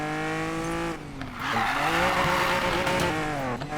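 A Lamborghini Diablo in Need for Speed Payback holds a loud, steady, high engine drone that dips briefly, then surges back up with a tire squeal layered over the revs.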